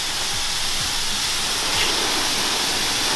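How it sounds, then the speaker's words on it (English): Pressure washer spraying a high-pressure plain water rinse onto a car, a steady loud hiss of spray with no pauses, close up. "I'm gonna start with a high pressure rinse. So this is just straight up water with the pressure washer."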